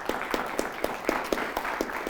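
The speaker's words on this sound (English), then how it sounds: "let's give a nice round of applause to the Auburn Knights" A studio audience claps for a high-school quiz team, steady applause with distinct hand claps throughout, fairly close and moderately loud with no voices over it.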